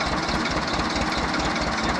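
A 1985 Escort 335 tractor engine running at idle, a steady low throbbing diesel chug with even knocking pulses, close and loud throughout.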